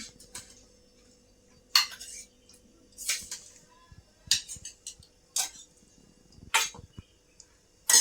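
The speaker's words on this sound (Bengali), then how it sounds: "চলো এখন সয়াবিনের তরকারি তুলি।" A spoon scoops soybean curry out of a cooking pot in a few separate scraping clinks of metal on metal, with quiet gaps between them.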